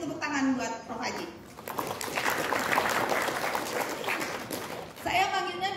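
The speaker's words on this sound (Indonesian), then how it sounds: "sekali lagi kita beri tepuk tangan buat Prof. Aji." Audience clapping fills the middle, a steady broad patter of many hands, with a person talking briefly before and after it.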